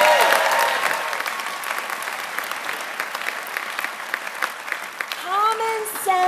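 An audience at the 2019 New Mexico State of the State speech applauds, with steady, dense clapping that fades slightly and then swells again near the end, with voices mixed in.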